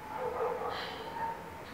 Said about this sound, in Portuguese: cachorros latindo!